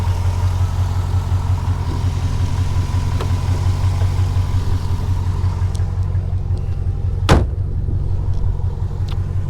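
A 1990 Chevrolet Corvette ZR1 idles with a steady, close low rumble and even engine throb, joined briefly by a sharp click or tap partway through, with no voices.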